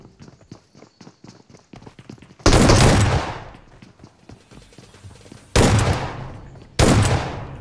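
Three loud, close shotgun blasts in the video game PUBG, each a sharp boom with a long decaying tail, separated by stretches of quick rhythmic footsteps.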